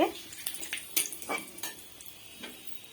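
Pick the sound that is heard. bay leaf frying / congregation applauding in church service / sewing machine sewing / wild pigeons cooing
bay leaf frying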